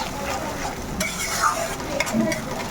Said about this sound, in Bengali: 3 চামচের কাছাকাছি রসুন বাটা দিয়েছি। দিয়ে এবার এটাকে আমি একটু ভালো করে আগে কষিয়ে নেব।